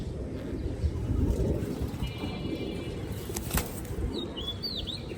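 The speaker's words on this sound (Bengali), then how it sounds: "দুইটাই বেগুনি গলা কবুতর।" Purple-necked female pigeons in a loft beat their wings in a rapid, sustained flutter close by, with a few faint chirps near the end and no talking.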